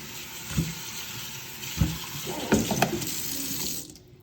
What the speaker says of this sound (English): we're going to come over here and rinse these bones off